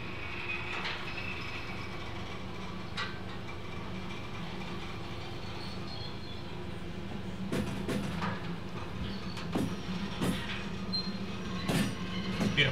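Railway wagons pushed during shunting in the Derail Valley train game, a steady rolling rumble with squealing wheels and sharp clanks and clicks over rail joints growing busier toward the end, no talking.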